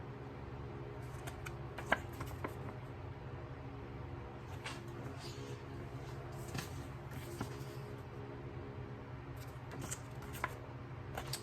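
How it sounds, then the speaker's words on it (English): Paper note cards shuffled and handled in a quiet bedroom, with soft repeated riffling and tapping over a steady low room hum, close and faint, no talking. "Now I will show you my note cards."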